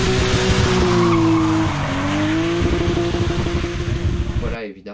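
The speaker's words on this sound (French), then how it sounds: "Et puis les BM qui driftaient et tout, vraiment pour le plaisir, évidemment pas pour faire un temps." BMW cars drifting, tires skidding in a long, loud squeal with a wavering high whine over a rough engine roar, close by, ending abruptly after a few seconds.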